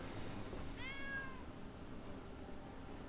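A cat gives a single clear meow, fairly close but not loud, over a low steady background hum with no talking.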